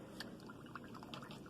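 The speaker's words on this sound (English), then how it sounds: "So here I am dipping my brush in the water" A paintbrush dips and swishes in a cup of water, giving faint small drips and liquid clinks, quiet and close with no voices.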